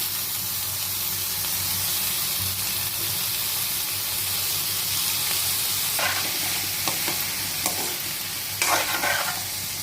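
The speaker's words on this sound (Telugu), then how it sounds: "పప్పు పులుసు అయితే మరుగుతుంది కదండి." Dal broth for pappu pulusu with potato pieces, cooking hard in a pot, giving a dense steady sizzle and bubbling hiss close up, with a few brief clinks and stirs near the end and no talking.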